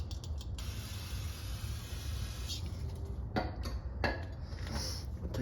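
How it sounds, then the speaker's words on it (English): A short aerosol burst of brake cleaner hisses for about two seconds while fitting PowerStop Z26 pads to four-piston Brembo brakes, followed by quiet metallic clinks and creaks of tools. "Spray a little bit of brake cleaner in there."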